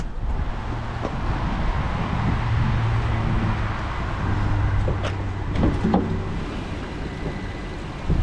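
A 2017 Infiniti QX50's 3.7-liter V6 runs at idle, a steady low hum heard up close with a few faint clicks and knocks on top.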